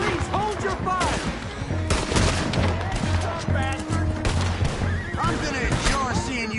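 Dense Red Dead Redemption 2 gunfight with overlapping rifle and pistol shots, horses whinnying and hooves in the mix, loud and continuous, with voices shouting over it.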